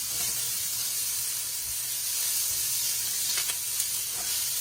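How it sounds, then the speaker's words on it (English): Food sizzles steadily in a pan during the cooking of a Puerto Rican dish, a continuous hissing fry with faint scraping from stirring, fairly close and with no talk over it. "you're gonna keep stirring it so it won't stuck to the pan"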